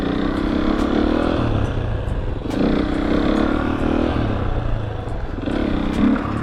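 A 450 supermoto motorcycle's engine revs in steady, loud surges with a continuous rough drone and brief throttle blips, close by and without talk.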